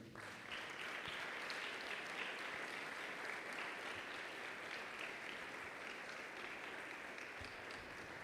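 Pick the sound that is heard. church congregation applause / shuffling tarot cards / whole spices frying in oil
church congregation applause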